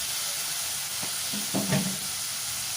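Fried onions and chopped tomato sizzle steadily in a hot pan while a spoon stirs with a few scraping strokes, a continuous close hiss throughout.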